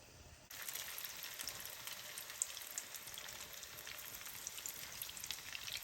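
Meat and potato cutlet patties fry in a pan of oil, making a dense, even sizzle. The sizzle starts abruptly, then holds steady with scattered tiny pops and crackles.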